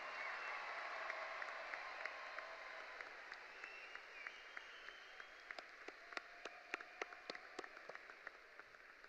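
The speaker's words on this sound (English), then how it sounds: "Let's give them all one more big round of applause" A crowd at Grassfield High School's class of 2025 graduation ceremony applauds; the clapping is distant and soft, then thins into scattered, distinct individual claps toward the end.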